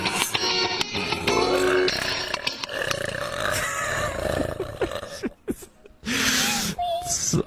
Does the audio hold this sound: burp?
yes